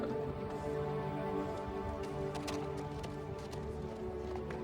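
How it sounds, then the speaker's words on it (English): Horse hooves clip-clop at a steady pace in a Lord of the Rings: The Rings of Power scene, moderately loud and continuous, set against a dense layer of background score and ambience with no speech. "Oh, what a beautiful horse."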